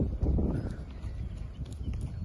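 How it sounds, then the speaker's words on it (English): A horse clip-clops at a steady walking pace, with hooves thudding softly at middle distance over a constant low background rumble. "Ooh, that's a horse."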